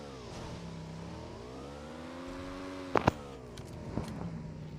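A motorbike engine in PUBG Mobile droning steadily, its pitch rising and falling, with a few sharp clunks and knocks near the end, moderately loud and with no talking.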